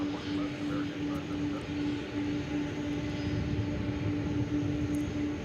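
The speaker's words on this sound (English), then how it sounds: "we got an MD-11 taxiing out here of UPS Miniport." A UPS MD-11 taxiing at DFW International Airport produces a steady, unbroken engine drone with a constant hum running through it, heard at a moderate distance with no breaks.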